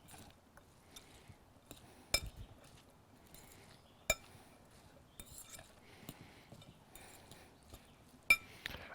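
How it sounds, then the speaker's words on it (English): A fork stirs chopped green onions in a bowl during vegetarian cooking, giving scattered light clinks and scrapes with a few sharper taps against the bowl, close and fairly quiet with no talking. "Got my fork here. We're just going to stir this up."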